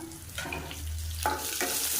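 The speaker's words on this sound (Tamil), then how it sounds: "இது எல்லாமே நல்லா பொரிஞ்சிருச்சு" Mustard seeds, urad dal, fenugreek, cumin, dried red chillies and curry leaves sizzling in hot oil in a pan for sambar, a continuous crackling fry close by with a few sharp spits and a stirring scrape.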